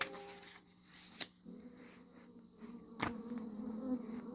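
Faint bee buzzing in a quiet, soft setting, a thin steady drone with a few brief clicks and rustles over it.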